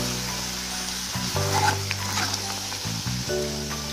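Tomato, ginger and green chili paste sizzles steadily in a hot pan as it is stirred for a Kashmiri dum aloo masala, with continuous close frying hiss and soft stirring scrapes, no talking.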